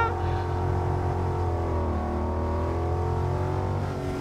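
A Ford Mustang GT engine drives on a track in a steady, close, continuous drone, with a brief dip in pitch midway as it shifts up into third gear.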